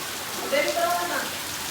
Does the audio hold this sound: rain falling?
yes